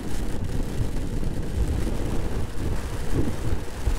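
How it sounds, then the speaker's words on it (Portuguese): Strong crosswind buffets a motorcycle on a rain-soaked road, a dense, continuous low roar of wind rumbling against the microphone with steady, heavy loudness and no pauses. "É um vento lateral aqui monstruoso."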